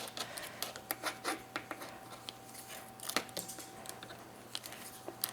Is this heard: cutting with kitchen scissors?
yes